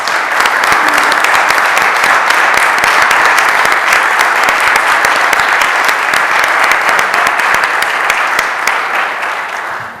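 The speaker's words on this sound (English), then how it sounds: "one last great round of applause, and thank them very much for this" A city council chamber audience gives a long, loud round of applause, many hands clapping densely and steadily for ten seconds before tapering slightly at the end, with no talk.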